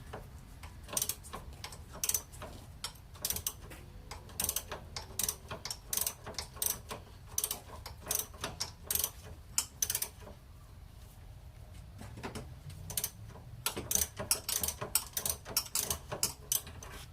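A wrench breaking loose a front suspension bolt, a sway bar end link, on a 1998-2002 Honda Accord produces quiet, rapid ticking clicks in irregular bursts, close but faint, with brief pauses.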